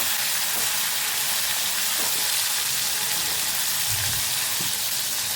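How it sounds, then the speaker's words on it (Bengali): Tomatoes fry lightly in a pan as part of a small-fish chorchori, giving a steady, dense sizzle and hiss. The sound is continuous, with occasional faint thuds from stirring. "আমি টমেটোটা হালকা করে ভেজে নিয়েছি।"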